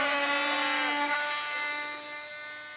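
A tiny electric RC hotliner plane motor at takeoff on partial throttle, a high, strongly tonal whine with layered harmonics that shifts pitch slightly midway and then fades steadily as the plane pulls away.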